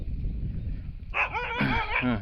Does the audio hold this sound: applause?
no